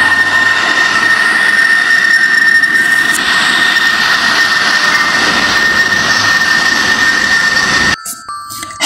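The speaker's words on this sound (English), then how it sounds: "Fighter plane. This is a fighter plane." A loud, continuous jet roar with a sustained piercing whine, holding steady for several seconds before stopping suddenly.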